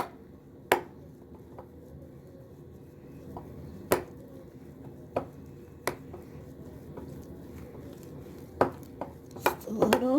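A spoon stirs mustard into deviled egg filling in a bowl, making sparse sharp clinks against the dish and soft squishy mixing sounds, quiet and close.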